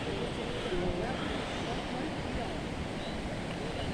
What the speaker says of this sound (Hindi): हमारे पास यहाँ पर ना इंतहाई खूबसूरत आबशारों की शक्ल में ऊपर से पानी आते हैं और ये दरिया में मिलता है